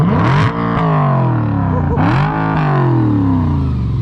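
A tuned 2007 Audi B7 RS4 accelerates hard past in a loud flyby, its engine note rising and swelling close by, dipping briefly, then climbing again.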